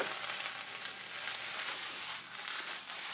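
Potatoes for crispy aloo bhujia sizzle continuously in a frying pan as they are tossed, a steady, close, bright crackle with no voices.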